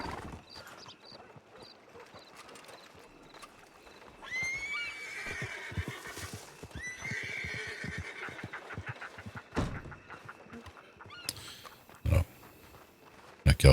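Horse neighing and whinnying in a lively game scene, several drawn-out calls in the middle of the clip amid clattering background noise and brief loud knocks near the end.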